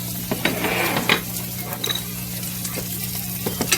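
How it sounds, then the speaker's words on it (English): Salt-and-pepper seasoned steaks sear in a hot pan with a steady close sizzle, broken by occasional clinks and scrapes of utensils against the pan. "You just want to get a good sear in them"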